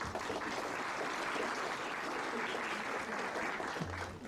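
Steady, dense applause from an audience at a judicial conference, holding even throughout before tapering slightly at the end.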